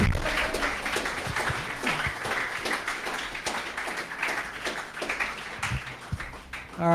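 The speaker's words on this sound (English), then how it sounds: "Give Alex a hand." An audience at a Bitcoin panel talk applauds a speaker with steady, dense clapping that carries on for several seconds, moderately loud and close, with a short burst of voice near the end.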